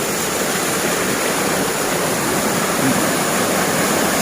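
A waterfall at a Phu Thai village in Bualapha, Khammouane, Laos, pours from an upper tier into a basin, making a steady, close, loud broadband rush that never pauses, with no voices.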